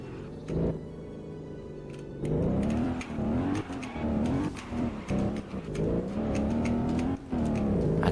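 An Alfa Romeo 8C Spider sports car, fitted with snow or drift tires, drives on a track, its engine revving up and down in repeated surges of throttle, steady and moderately close.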